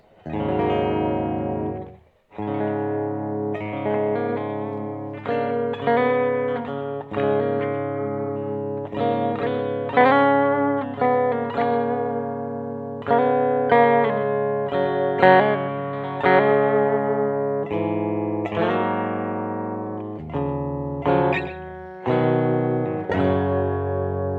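A clean electric guitar through a Peavey Vypyr VIP 2 amp, delay and reverb off, plays a melodic run of single notes and chords, bright and sustained, with no voices.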